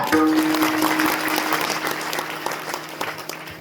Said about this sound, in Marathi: यांच्यासाठी एकदा टाळ्या वाजा